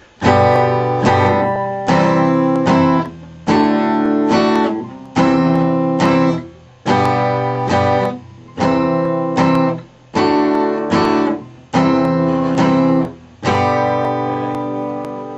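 Strummed guitar chords repeat a I-IV-V-IV progression in an even, rhythmic pattern, each chord ringing briefly before the next strike, clear and close with no voices.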